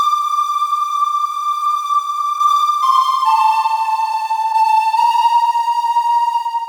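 A high-pitched synthesized flute from the Pandora VST plugin holds pure, sustained tones that step between a few close pitches, loud and steady with no talk.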